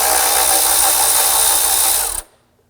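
A 10mm socket on an extension turns under power to loosen an engine cover nut on a 2015-2020 Ford F-150 2.7L V6, a loud, close, steady whirring buzz that cuts off abruptly near the end.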